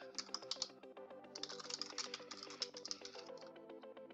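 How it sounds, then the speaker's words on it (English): Quick, uneven keystrokes clatter on a computer keyboard while someone enters a message in a web patient portal, close and fairly quiet, with no talking. "start typing"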